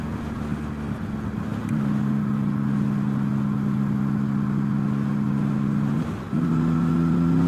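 A motorbike carrying a pillion passenger drones steadily close by, its engine note stepping up as it accelerates, dipping briefly near the end before pulling on again.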